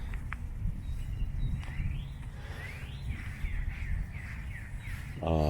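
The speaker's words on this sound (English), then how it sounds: "That's a loud bird." A loud bird repeatedly calls with rising, swooping cries over a low outdoor rumble in a cemetery, ending with a brief rattling burst.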